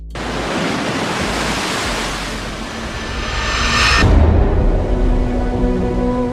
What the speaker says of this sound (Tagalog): Ang isa sa mga dinarayo sa bayan ng Misamis Oriental, ang higit 100 feet na talon na ito.